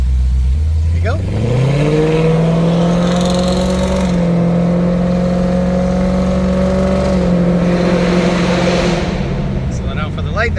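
A car fitted with a GT500 swap and 6R80 transmission launches in second gear under hard throttle, the engine climbing in a loud, sustained, steady roar for several seconds before easing off.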